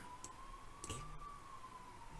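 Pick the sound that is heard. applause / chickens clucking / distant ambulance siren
distant ambulance siren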